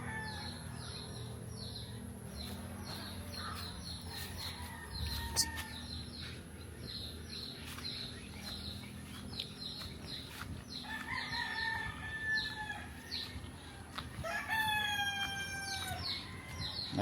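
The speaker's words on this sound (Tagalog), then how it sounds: "May manok silingan." A neighbor's chickens cluck faintly in the background while a rooster crows a few times, the clearest crows coming near the end.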